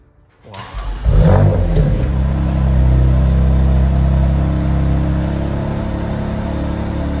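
A BMW M4 engine rises from quiet into a loud revving roar after a short blip and then holds a steady, powerful rumble nearby, with no talking.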